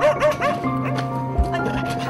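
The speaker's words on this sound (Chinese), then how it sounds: "狗狗竟然守着门口狂吠。" A dog barking furiously at a door, a rapid run of close, loud yelping barks with whiny tones and a thump partway through.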